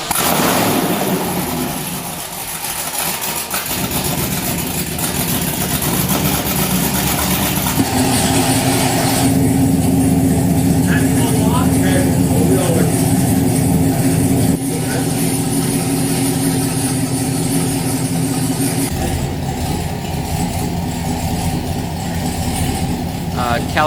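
1969 Chevrolet Camaro engine on its first startup, idling steadily and loudly for the whole stretch with a dense low rumble, a shift in tone partway through, and talk over the engine noise.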